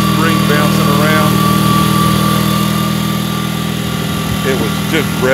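Honda 3813 garden tractor engine running steadily with a high throttle setting, a loud continuous close hum with faint voice-like sounds over it.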